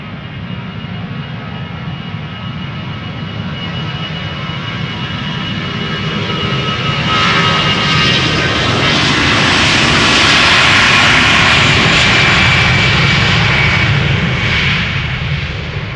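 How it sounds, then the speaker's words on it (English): A 16-year-old Airbus A321 departing Amsterdam Schiphol for Paris gives a loud, close jet engine roar that builds steadily and peaks toward the end as it climbs away, with no talk over it. "waiting to get clearance to take off to Paris-Charles de Gaulle. It's an A321"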